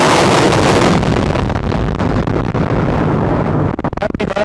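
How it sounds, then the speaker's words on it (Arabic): A heavy dynamite demolition blast brings down a fire-damaged building, producing a deep, continuous rumble and roar as the structure collapses, with wind buffeting the microphone near the end. "تفجير المبنى ونزوله كاملا في مكانه"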